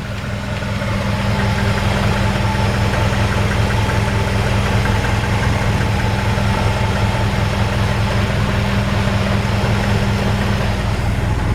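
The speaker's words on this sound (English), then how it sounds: "you can hear how quiet that engine is" Older Chevy engine with a single-barrel intake idling in a 1951 Ford F1 truck, a close, steady, smooth low rumble with even pulsing and no voices.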